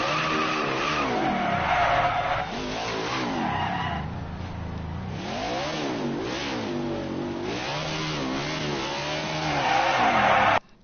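A car in a PS4 video game skids with long, wavering tire squeals over a revving engine, loud and continuous, swelling and dipping for about ten seconds before cutting off abruptly.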